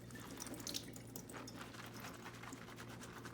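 Tap water runs steadily into a sink while food is rinsed, a soft continuous splashing with small drips and clinks, fairly quiet throughout.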